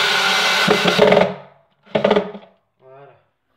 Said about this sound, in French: Donc là je vais déjà visser la dernière vis ici.